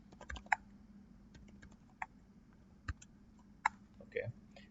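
Typing names into a file in the vi editor on a computer keyboard, sparse separate keystrokes and clicks spaced out over a low steady hum, close and quiet.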